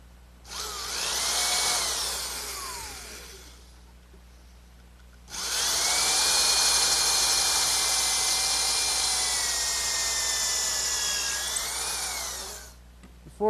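A power drill whirs into wood, boring a pilot hole with a counterbore for screws in a rocking horse project: a short burst, a pause, then a longer steady run with pitch dips under load.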